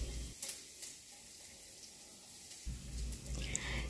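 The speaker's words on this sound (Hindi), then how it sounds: "मैं जीरा, राई और हल्का सा मेथी दाना घी में तड़का लगा रही हूँ" Cumin, mustard seeds and a little fenugreek sizzle in hot ghee for a curry tempering, a soft continuous frying hiss that is faint and close, with no talking.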